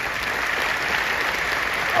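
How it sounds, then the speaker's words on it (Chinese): Steady, dense applause from a seated audience at a talk, a continuous wash of many hands clapping evenly throughout, close and moderately loud, without any speech over it. "再一次见证你们的掌声给杰金"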